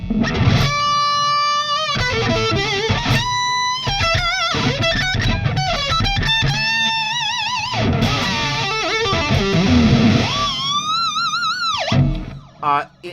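Electric guitar played through a Soldano amplifier with the gain turned high, giving a thick, fuzzy distortion; loud sustained notes, bends and vibrato-laden leads ring out continuously before cutting off near the end.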